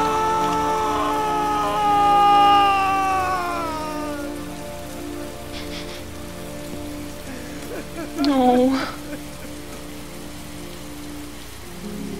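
Steady rain falls in the video game Heavy Rain, a constant wash beneath a long wailing cry and a brief spoken word partway through.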